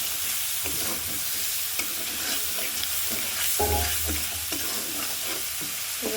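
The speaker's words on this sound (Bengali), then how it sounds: "আমি আলু দিয়ে দিচ্ছি আলুটাও বেশ কিছুক্ষণ কষাবো" Potatoes fry with spices in a pan for a pumpkin bori dish, giving a steady close sizzle broken by repeated scraping strokes of a spatula stirring throughout.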